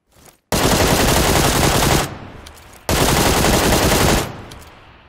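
Automatic rifle fire in PUBG Lite on the Sanhok map during a one-versus-squad match: two long, loud sustained bursts separated by a short pause, with no talking.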